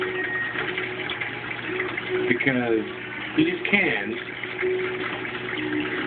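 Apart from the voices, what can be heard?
water filling cans in aquaponics sump system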